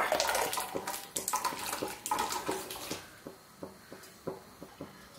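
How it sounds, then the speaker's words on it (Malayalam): Water pours steadily into a cooking pot of hot water holding drained cassava, a loud continuous splashing stream for about three seconds, then easing into scattered drips and small splashes with no talking. "ഇതിലേക്ക് നമുക്ക് വേറെ വെള്ളം ഒഴിച്ചു കൊടുക്കാം"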